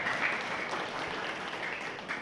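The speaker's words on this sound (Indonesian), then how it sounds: "tepuk tangan dulu" Audience applause at an Islamic religious study gathering, a steady wash of many hands clapping close by for the whole stretch, with no voices over it.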